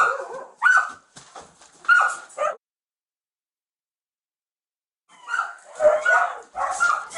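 Several starved, malnourished dogs bark and yip in short bursts, then fall silent for a few seconds before another round of barking resumes nearby.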